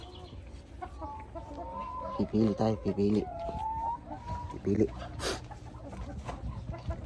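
Chickens clucking in bursts from close by, with a louder cluster of harsh calls near the middle, under and between a person talking casually in the yard.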